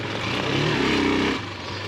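A Bashon Brozz Recon Chinese motorcycle rumbles steadily through a ditch, its engine swelling louder mid-ride and then easing back to a lower drone.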